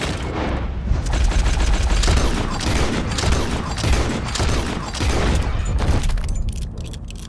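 Dense gunfire in the Red Dead Redemption 2 video game, a loud sustained fusillade of overlapping shots and booms filling the whole stretch, easing off near the end.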